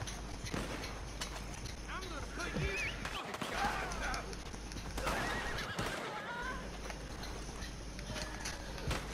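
A horse whinnies loudly in the video game Red Dead Redemption 2 Online, with hoofbeats clip-clopping underneath, over a steady synthetic background hum.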